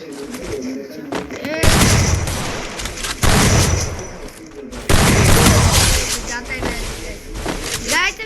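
Bursts of rapid gunfire and explosive booms from a shooting video game crackle loudly in repeated volleys, with a voice speaking in between.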